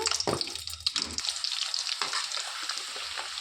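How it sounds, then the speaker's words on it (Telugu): Gooseberries (amla) fry in hot oil for a pickle, sizzling loudly at first with clattering stirring knocks, then settling into a steady, softer hiss broken by occasional scrapes. "ఈ ఘాట్లు పెట్టుకున్న ఉసిరికాయలు ఇందులో వేసేసుకోవాలి వేసి వేయించుకోవాలండి నూనెలో"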